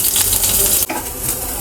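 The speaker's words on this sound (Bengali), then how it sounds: "এবার তেলের উপরে দিয়ে দিচ্ছি রসুন কুচি।" Chopped garlic sizzles loudly in hot oil with curry leaves, a dense close crackle that dips briefly midway before picking straight back up.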